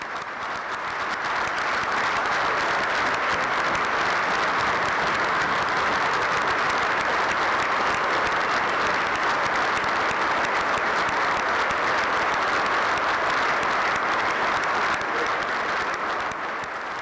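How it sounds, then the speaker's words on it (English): A large audience at a governor's State of the State address in a legislative chamber breaks into sustained, loud applause that fills the whole stretch steadily from start to finish, with no talking heard over it. "let's give them an applause."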